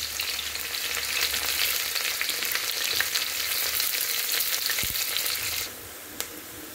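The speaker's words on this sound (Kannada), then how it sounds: "ಈಗ ಈರುಳ್ಳಿ ಹಾಕ್ತಾ ಇದ್ದೀನಿ. ಈರುಳ್ಳಿ ಗೋಲ್ಡನ್ ಬ್ರೌನ್ ಕಲರ್ ಬರೋವರೆಗೂ ಫ್ರೈ ಮಾಡ್ಕೊಳ್ಳೋಣ." Onions fry in hot oil with cumin seeds in a pan, a steady close sizzling hiss that holds for several seconds, then quietens abruptly near the end, followed by one faint click.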